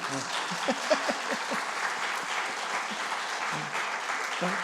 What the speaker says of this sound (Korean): 박수 한번 쳐드리려고.